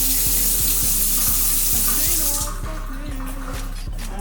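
Warm water runs from a tap for bread dough, a steady hiss that softens partway through, with a low mechanical hum and regular ticking underneath.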